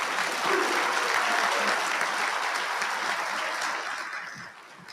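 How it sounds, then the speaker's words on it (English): An audience at a military training and education awards dinner applauds the award winners, a loud dense roar of clapping that holds steady and then tapers off toward the end. "please join me in a round of applause for all of our award winners"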